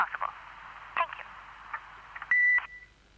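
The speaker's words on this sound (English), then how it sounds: "If you'll be kind enough to speak to this little beep" An answering machine gives one steady electronic beep lasting about a quarter second, clear and moderately loud, following brief muffled telephone-line speech and clicks.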